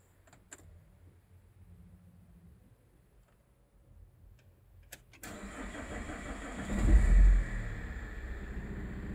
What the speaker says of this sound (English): I believe that's cranking for a bit too long